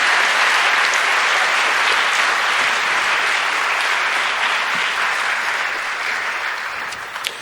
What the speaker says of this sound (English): So can we give the entire community a big round of applause